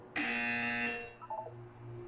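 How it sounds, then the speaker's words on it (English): A loud electronic buzzer in the video game Portal 2, one sustained harsh tone lasting about a second and then cutting off, followed by a few softer chime-like blips over steady background hum. "When you hear the buzzer, look down at the floor."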